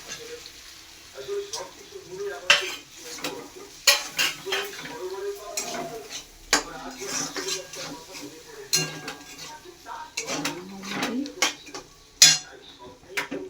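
Tomatoes added to ginger frying in oil in a pan, stirred with a utensil that clinks against the pan, giving repeated scrapes and knocks over a soft sizzle, with a voice speaking between the strokes.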